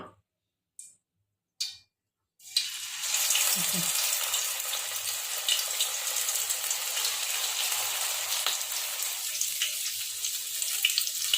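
Paneer tikka pieces deep frying in hot oil, starting with a few sharp clicks, then a sudden loud, steady bubbling sizzle that carries on close up without talk.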